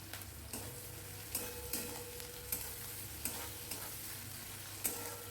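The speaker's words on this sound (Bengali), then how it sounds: "ভালো করে নাড়িয়ে নিচ্ছি একটু লাল লাল করে ভেজে নেব" Onions fry gently in a pan while being stirred, a faint sizzle under soft, regular scraping ticks from the spoon.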